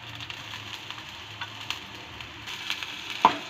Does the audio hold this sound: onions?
yes